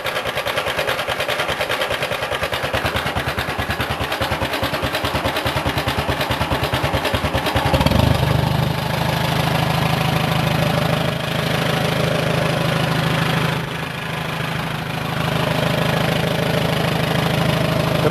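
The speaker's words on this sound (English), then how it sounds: "this is idle for this one, but it'll run a lot slower. So that's barely running" Farmall 140 tractor engine idling steadily and nearby, a rough clattering beat that shifts after several seconds into a lower, slower, smoother idle as the throttle drops, with no talking.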